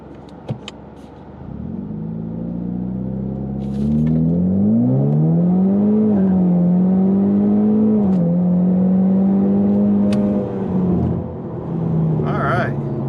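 A car accelerating hard on a drag test run to check traction with overinflated tires, the engine note climbing steadily and loud with gear-change dips, steady interior rumble throughout.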